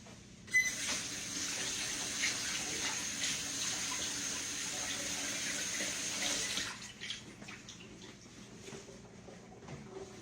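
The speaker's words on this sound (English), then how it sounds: "Let me wash my hands." Kitchen tap running steadily as hands are washed under it, a close, even rush of water that starts abruptly and stops after about six seconds, followed by faint drips and handling sounds.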